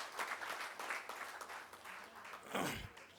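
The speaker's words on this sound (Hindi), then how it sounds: "तो अपने लिए ज़ोरदार एक बार तालियां हो जाएं।" Audience applause at a horticulture seminar, a fairly faint wash of clapping from a gathered crowd that swells and fades over a few seconds, with a low thump near the end.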